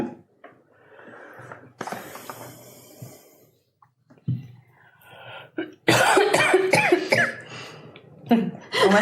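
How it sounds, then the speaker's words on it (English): A few short coughs and throat-clearing sounds, faint at first, followed by louder rustling and mechanical clicks near the end. "Almost like a cough."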